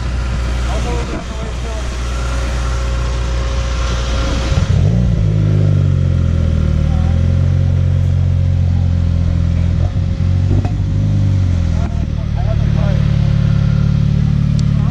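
A 2014 Dodge Dart car engine starts cold and settles into a loud steady idle with a deep rumble, while people talk over it.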